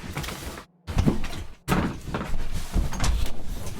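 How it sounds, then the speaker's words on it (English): A door opens with a short burst of clattering and thumping, one abrupt cutoff followed by a few knocks and scraping sounds, close and fairly loud. "Gonna open my door real quick."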